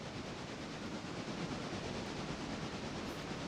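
A train rumbles along steadily in a train video game, a continuous broadband roar with faint hiss, even in loudness throughout and no distinct clacks standing out.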